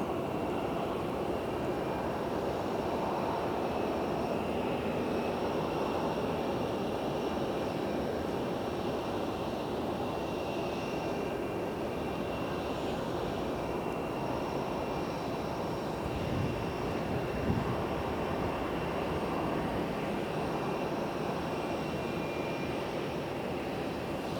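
Steady, distant roar of jet airliners at Phoenix Sky Harbor airport, a continuous broadband engine rumble with a slight swell partway through, heard alone without talk.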